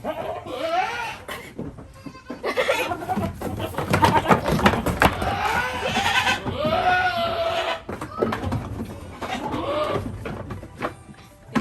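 Goats bleating repeatedly and loudly nearby on a rural goat farm, including an aggressive Nubian ram, wavering calls overlapping with scuffling and a bird or two in the background.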